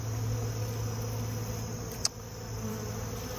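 Honeybees hum steadily around an overwintering nuc box, a continuous close drone with one brief click partway through and no voices.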